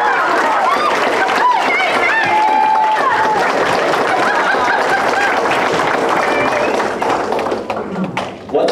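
An audience at the 2022 Van Buren County Fair pageant applauds the contestants, with sustained clapping and a few cheers that fill the room for several seconds before trailing off.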